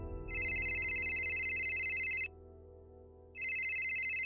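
A telephone bell rings in two loud electronic bursts, the second starting after a short pause, with no talk over it.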